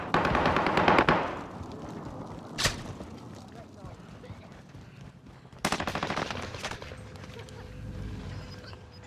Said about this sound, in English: under heavy fire here